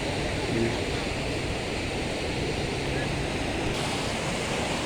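Rushing water from a small waterfall feeding the Neelam River in Azad Jammu Kashmir makes a steady, dense, close roar that fills the whole clip without a break.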